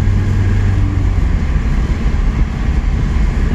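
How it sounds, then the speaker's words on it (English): A 1996 Volkswagen B4 Passat 1.9 TDI diesel engine held at wide open throttle, a steady loud low drone with a constant rumble and no break, heard close and alone. "Wide open throttle"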